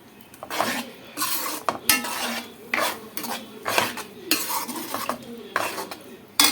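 Mango semiya kesari with ghee being stirred in a pan makes rhythmic loud scraping and clattering strokes of a spoon against metal, repeated steadily up close, with no speech.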